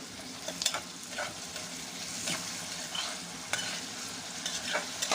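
Onions tossed with salt in a frying pan, stirred with a steady scraping rhythm over a continuous close sizzle, with no voices.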